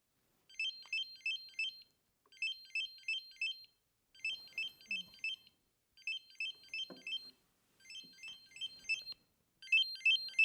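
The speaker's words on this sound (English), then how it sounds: "that's the sound it's making to find the remote." An Onn 4K Pro streaming device's remote finder emits six evenly spaced bursts of rapid, high electronic chirps, each group about a second long, fairly faint in a quiet room with occasional soft handling noises.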